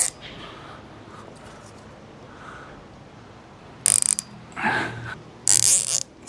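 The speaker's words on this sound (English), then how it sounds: "I think we need to tighten the bottom one." Ratchet tightening the bottom bolt on an outdoor kitchen frame, with a few quiet clicks early on, then loud close bursts of rapid clicking in short strokes with pauses between them.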